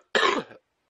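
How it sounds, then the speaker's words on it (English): A single harsh cough, loud and close, followed by silence and the start of another cough at the very end. "I am sorry about the constant coughing."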